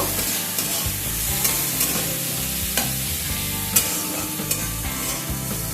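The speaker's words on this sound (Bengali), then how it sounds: "পেঁয়াজটাকে লাইট ব্রাউন করে ভেজে নেব।" Four medium finely chopped onions frying toward light brown in oil, a loud, steady close sizzle with repeated scraping and clinking of a spoon stirring in the pan, no talk.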